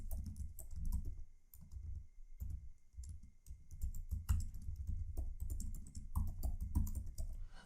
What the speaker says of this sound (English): You can type by the keyboard.